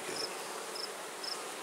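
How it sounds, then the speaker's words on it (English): Honey bees buzz around an open beehive, giving a faint, steady hum, with a few brief higher buzzes as single bees pass near. "there's a good number of bees in this hive"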